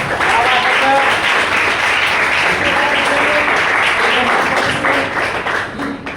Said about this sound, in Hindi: स्मार्ट वैल्यू एक बार जोरदार ताली, जोरदार।